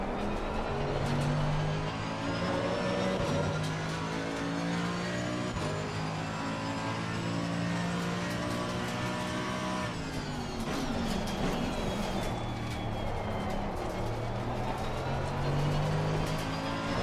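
A Mercedes-AMG race car in Assetto Corsa Competizione at the Nürburgring, its engine revving continuously through gear changes, pitch rising and dropping as it brakes and accelerates through corners, steady and close throughout.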